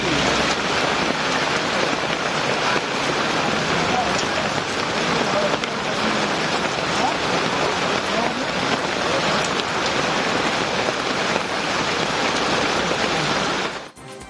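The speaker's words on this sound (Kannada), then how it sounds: "ನಿನ್ನೆ ತಡರಾತ್ರಿ ಸುರಿದ ಮಳೆಗೆ ರಸ್ತೆಗಳು ಜಲಾವೃತವಾಗಿವೆ." Heavy late-night rain pours down steadily over flooded roads during a thunderstorm, a dense, unbroken roaring hiss that lasts throughout and fades out only at the very end.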